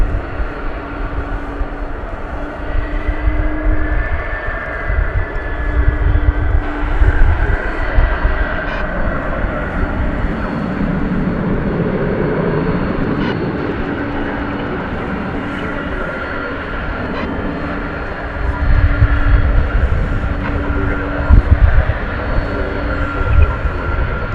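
An MD-11 airliner's jet engines roar at DFW Airport, a broad, loud rumble that swells and eases over time with a sustained whine, heard from outdoors at a distance.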